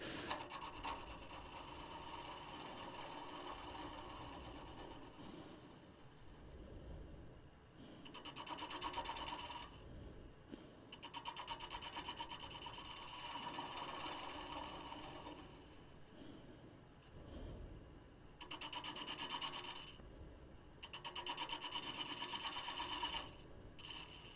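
Turning tool taking light cuts on a wooden lidded box spinning on a lathe at relatively slow speed, giving a raspy scraping whir in several bursts of a few seconds each over a steady motor drone, with no talk.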